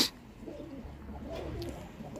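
Aslan baş pigeons coo inside a coop, soft low throaty cooing rolling on continuously at close range with a faint higher sound at the start.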